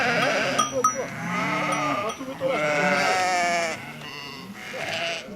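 A flock of about fifty sheep bleating during a transhumance at Saint Zacharie, several animals calling over one another in loud, overlapping, wavering cries close by, with barely a pause.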